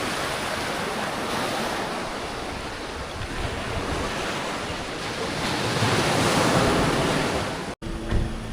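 Ocean surf breaking steadily along a rocky beach in Playa del Carmen's Centro, with fishing boats nearby; loud, continuous wash of waves with wind buffeting the microphone and a brief dropout near the end.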